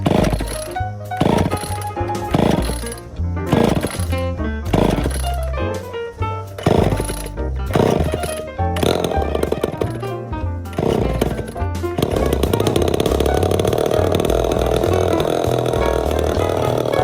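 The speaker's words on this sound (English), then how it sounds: "They're really good chainsaws." A chainsaw engine revs in bursts, stuttering on and off for several seconds before settling into a loud, continuous snarl.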